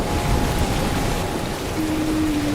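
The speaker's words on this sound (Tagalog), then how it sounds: "halos hindi marinig ang usapan sa lakas ng ulan" Dense, steady roar of heavy storm rain pouring down, with a low rumble underneath and no voices.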